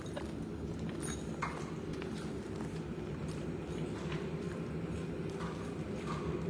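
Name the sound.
horse hooves walking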